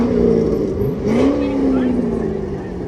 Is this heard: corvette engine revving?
yes